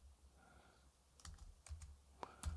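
Keys tapped on a computer keyboard while a domain name is entered into Google, a sparse run of soft, close clicks with a few sharper strokes near the end, alone and otherwise quiet.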